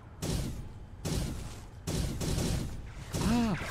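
Weapon fire in the video game Project Landsword comes as several bursts of rapid shots in quick succession, with a rising synthetic whistle near the end, all under continuous talk.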